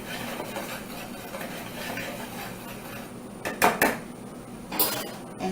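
Wheat protein and whole wheat flour being mixed in a bowl for vegan steak, soft scraping and stirring scratches under a quiet room hum, then a few sharp clinks of a utensil against the bowl near the end.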